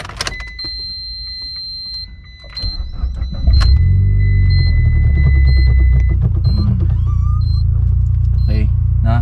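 Mitsubishi Lancer Evo X engine cranks, catches and settles into a steady, loud idle rumble after a few seconds of cabin clicks and beeps, with people talking throughout.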